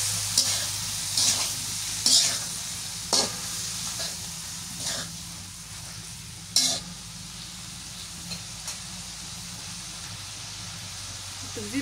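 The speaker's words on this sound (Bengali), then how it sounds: "শাপলাগুলো দিয়ে দিই। মাছ দিয়ে কষাইতেছো?" Small fish sautéing with water lily stems in a pan in a village kitchen in Bangladesh, a steady sizzle and hiss with repeated stirring scrapes and clinks throughout.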